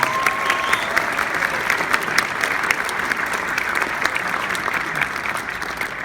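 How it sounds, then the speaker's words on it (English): A school spring concert audience gives sustained, full applause, a thick and even crackle of many hands that runs the whole time with a faint murmur of voices underneath. "if we could give them a big round of applause"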